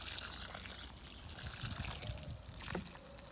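Water trickles and pours steadily onto potting soil in a strawberry bed, a soft continuous splashing and gurgling up close with no talking.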